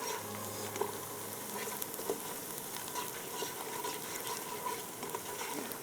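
Onions frying until brown for yakhni pulao, a soft even sizzle and patter held steady throughout, fairly quiet with faint occasional stirring ticks.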